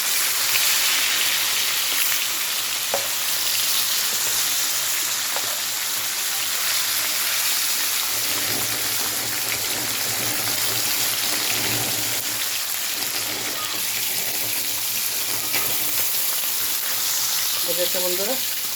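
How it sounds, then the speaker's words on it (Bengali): Fish fry in a pan in a home kitchen with a steady, loud hiss and crackle like heavy rain that lasts throughout, while faint background sounds stay low under the sizzle. "আর এক হাতে মাছগুলো দিচ্ছি"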